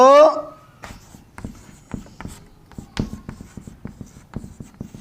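Chalk or a marker taps and scratches on a board during a class 12 maths lesson, making a string of sharp, uneven strokes close by after a brief spoken word at the start.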